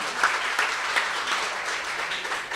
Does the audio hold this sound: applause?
yes